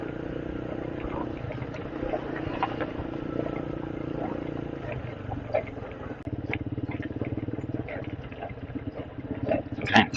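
A motorcycle climbs a mountain road, a steady engine rumble mixed with wind noise running throughout while riders talk over it.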